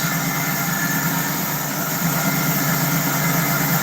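A car engine idles steadily on its own, running off its own fuel pump with the choke working; a continuous close rumble holds an even level throughout, with no voices.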